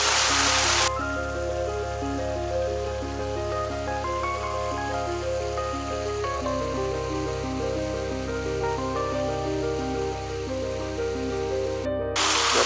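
A mountain stream in the Ukrainian Carpathians rushes and splashes steadily, a loud, continuous broadband wash of water flowing over rocks with no voices.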